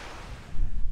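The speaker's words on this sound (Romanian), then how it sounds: "Vă amintiți valurile alea din Puerto de la Cruz, din Boiu?" Ocean waves rolling onto a beach at Puerto de la Cruz make a steady, windy roar that swells noticeably louder halfway through, with no voices.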